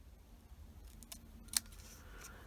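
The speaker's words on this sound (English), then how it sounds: "I'm just going to snip off the top." Scissors snipping the top off a paper scrap, a few faint close crisp cuts with one sharper snip near the middle, in a quiet room with no talking.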